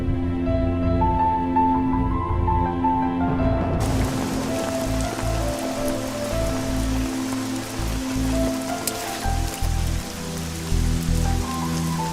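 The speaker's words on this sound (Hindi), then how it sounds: "बारिश भी थोड़ी कम हो गई है।" Steady rain falls on surfaces in a steady, dense wash that runs throughout, with music playing over it; no one speaks.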